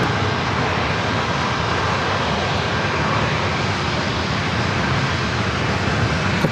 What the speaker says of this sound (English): Southwest Airlines flight 1624, 737 at MAX 8.